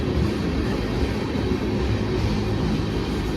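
A freight manifest train rolls past with boxcars, coil cars and cylindrical hoppers, a loud continuous low rumble and roar of wheels on rail, steady and close throughout with no talking.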